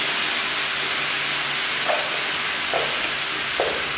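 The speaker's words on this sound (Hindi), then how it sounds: "तो अब इसके अंदर हम स्प्राउट डालने लगे हैं।" Minced meat keema sizzles and hisses loudly in a hot pan as chopped sprouts are added, with a steady frying crackle and a few brief stirring scrapes rising above it.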